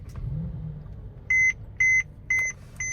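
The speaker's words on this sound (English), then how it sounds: "Put my seatbelt on so it starts beeping at me." Inside a 2014 Mercedes-Benz C300 4Matic, the seatbelt warning chimes four times in an even rhythm, clear electronic tones over a low idling engine rumble.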